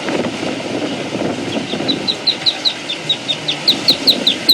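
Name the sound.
bird chirping, separated from thunderstorm audio by a model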